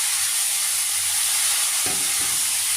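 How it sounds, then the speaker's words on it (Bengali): Potatoes frying with whole cumin in a pan, a loud steady hiss of hot oil up close, broken near the end by a couple of brief scraping clunks as they are stirred. "আলুগুলো একটু লালচে লালচে করে ভাজবো"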